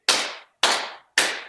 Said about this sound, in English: So everyone clap their hands along with me